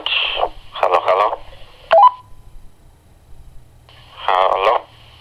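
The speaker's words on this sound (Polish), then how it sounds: "Za chwilkę postaramy się nadawać z tej krótkofalówki do tej." A Motorola TLKR T40 walkie-talkie gives off short bursts of warbling radio chirps and a quick beep tone, with a quiet gap before another burst, heard up close.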